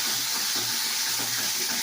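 Water poured into a cooking pot of spiced masala with ginger, garlic, onion, tomato sauce, cumin, turmeric and chili, a steady close hiss and splash running throughout without talk.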